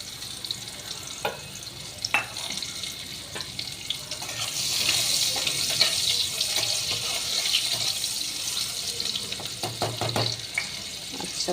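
Onions just added to hot oil in a pan, sizzling at moderate volume with occasional clicks and stirring knocks, the frying hiss swelling after a few seconds and continuing steadily.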